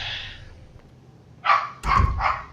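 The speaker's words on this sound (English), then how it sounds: "My dog wants out." A house dog barks to be let out: a faint muffled bark, a pause, then three loud close barks in quick succession.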